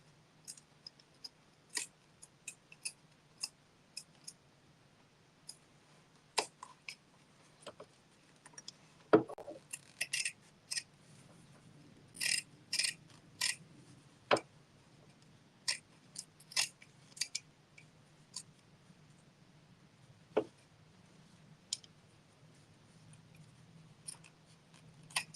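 Scissors trim the seam allowance of a sewing project with a scattered series of short, crisp snips, some clustered in quick bursts and others alone, close and fairly quiet over a low steady hum.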